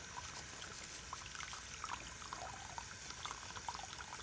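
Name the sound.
water from a tap rinsing dentures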